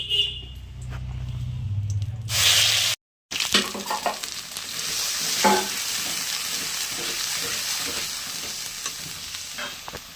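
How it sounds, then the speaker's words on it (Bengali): Ground bottle gourd leaf paste goes into hot oil with a dried red chilli, and a loud hiss sets in after a brief cut, then settles into a steady close sizzle with occasional stirring clicks. "তেল গরম হয়ে গেছে, এবার এই যে লাউ পাতাটা বেটে রেখেছি, এবার তেলে নেব"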